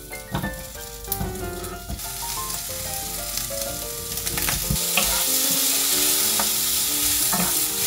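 Onions sizzle and fry in a hot pan for cream jjamppong while a utensil stirs and scrapes, the sizzle growing steadily louder and more continuous, with no voices.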